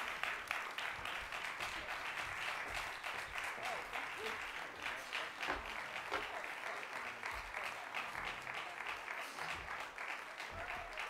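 Sustained applause from a veterans business conference audience fills the hall, dense steady clapping holding at even loudness for the full stretch with faint voices murmuring beneath.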